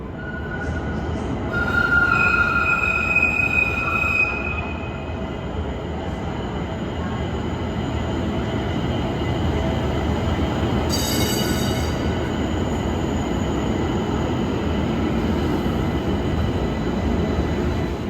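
A Pittsburgh light rail train rumbling through the underground North Side Station, a steady close rolling roar with brief high wheel squeals and a chime early on.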